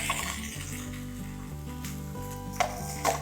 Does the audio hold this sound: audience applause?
no